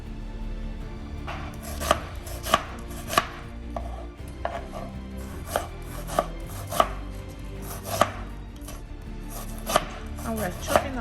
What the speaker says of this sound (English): Here I'm chopping some tomatoes, some onions,